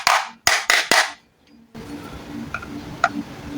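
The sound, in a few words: tapping stuck part of air mattress pump to loosen it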